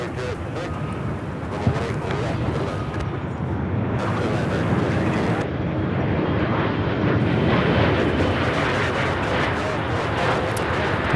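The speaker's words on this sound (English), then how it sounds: "Nice 777 coming in for a landing just in time." A Boeing 777 landing at Charlotte Douglas International Airport, a loud continuous broadband jet roar that holds steady and swells slightly as it passes, with talk faintly underneath.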